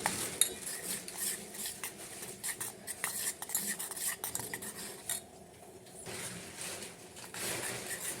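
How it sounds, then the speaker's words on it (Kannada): A spoon scrapes and clinks against a bowl while raw gram flour mixture is stirred for homemade ayurvedic soap, with quiet, irregular strokes close up and no voices. "ಸ್ವಲ್ಪ ಹಸಿ ಕಡಲೆ ಹಿಟ್ಟನ್ನು ಹಾಕೋಬೇಕು ಮಿಕ್ಸ್ ಮಾಡ್ಕೊಳ್ಳಿ"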